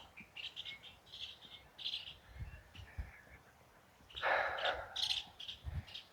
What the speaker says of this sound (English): Some birds. Toucan, I believe, is this one. And some types of parrots.